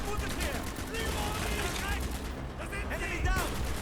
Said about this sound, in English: The good old Mosin Nagant scoped.